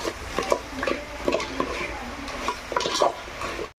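River crabs coated in masala are stirred and sautéed in a pan, with repeated scraping and clattering of the spatula against the metal over a soft frying hiss, close up and without speech.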